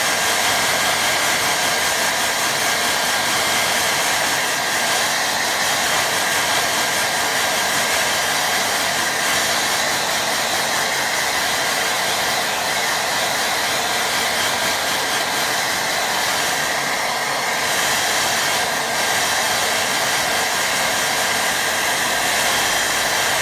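Hair dryer blowing steadily over a watercolour painting to dry its glazes, a loud continuous whooshing whir with no break.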